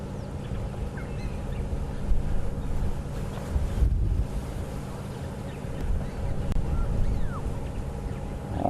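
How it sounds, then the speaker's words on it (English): Wind gusting and swirling across an outdoor microphone during a morning safari game drive, a steady low roar with stronger gusts around the middle, no talk. "I can hear him, but the wind is swirling."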